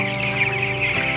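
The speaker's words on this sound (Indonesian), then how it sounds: "sekarang kami sedang berada di kandang ayam broiler milik Pak Riki ya," 16-day-old broiler chickens cluck steadily in a dense, continuous chorus, a close crowd of birds filling a coop in Sijunjung, West Sumatra, with overlapping calls.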